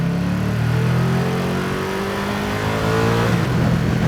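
A 2023 Ducati Streetfighter V2 in Storm Green, a 154-horsepower motorcycle, revving loudly while being ridden, engine pitch rising steadily then dropping as it shifts, continuous and close with wind rush.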